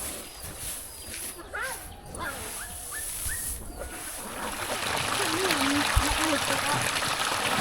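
Mountain spring water flows and trickles in a steady wash that grows louder toward the end, heard close in a rural village while voices talk over it.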